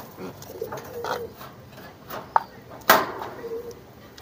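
Soft cooing from pigeons being paired, a male and female together, comes in low, faint calls with a couple of sharp knocks or taps.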